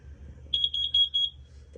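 A carbon monoxide alarm sounds a quick run of high, piercing electronic beeps, about seven chirps in a row, fairly close and loud, with no talking over it.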